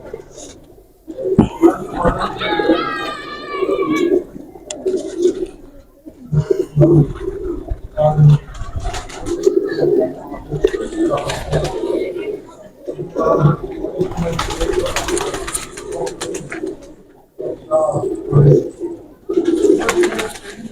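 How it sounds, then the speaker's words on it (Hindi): Heera Lal pigeons coo repeatedly in low, throaty rolling calls, close by and loud, with flapping and rustling mixed in throughout. "ये भी दोस्तों हीरा लाल कबूतर है"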